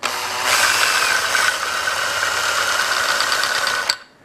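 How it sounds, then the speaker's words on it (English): Steady metallic grinding and whirring from the screw of a mill vise being wound by hand, close and continuous for about four seconds before stopping abruptly. "Now I should be able to remove this section by winding the screw here."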